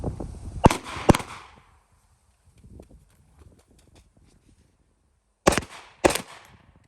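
Handgun shots at an outdoor range, two sharp close pairs of rounds fired at targets, one pair at the start and another a few seconds later, separated by quiet rustling and footsteps.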